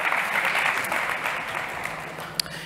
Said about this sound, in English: Big applause to Farag.